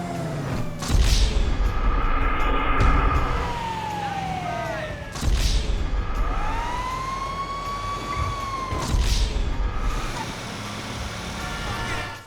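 Vehicle sirens wail in Grand Theft Auto V, rising and falling in long sweeping tones with three sharp bursts punctuating the loud, continuous traffic-like rumble; sirens include a tow truck's.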